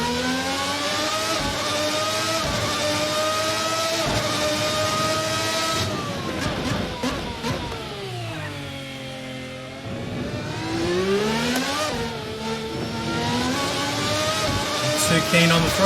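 A 1990 V12 Formula 1 car in a racing simulation game revs hard and continuously, its pitch swooping up and down through gear changes and throttle lifts, loud and close throughout.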